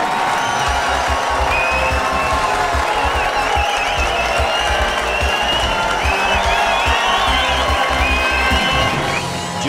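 A game-show studio audience on the set of Who Wants to Be a Millionaire breaks into loud, continuous applause and cheering, sustained close and full for nearly ten seconds.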